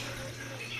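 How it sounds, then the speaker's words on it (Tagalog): Water pours into a cooking pot in a short, steady splashing stream, close and unbroken, with no talking. "Lagyan natin basta ng tubig para maluto ng lutong-luto."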